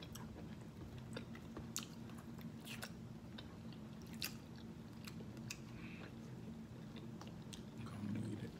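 Someone chews lobster meat close up, soft wet squishing and smacking bites repeated at an uneven pace, faint and alone with no talk.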